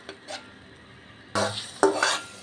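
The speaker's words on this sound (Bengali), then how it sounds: "আমি এটা খুব ভালোভাবে কষাবো, কারণ মশলা যত কষানো হয় তরকারিটা খেতে খুবই ভালো লাগে।" Spice paste for a papaya and potato curry is stirred and fried in a pot with a little water. A metal spoon scrapes and clinks against the pot in short bursts over a soft sizzle.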